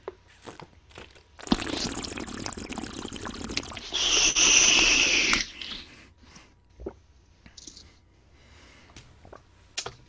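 A voice imitates a bubbling bong with water, a gurgling, crunchy liquid burble lasting a couple of seconds followed by a brighter, louder rush, then scattered small clicks and quiet.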